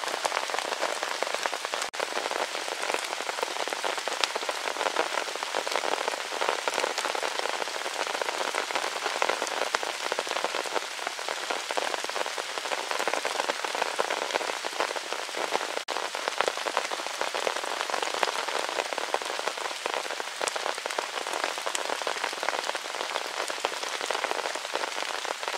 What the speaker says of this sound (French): La pluie n'a pas cessé. Ça continue de tomber assez fort comme on peut l'entendre.